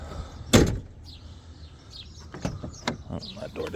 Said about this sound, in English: Oh, that door didn't shut all the way.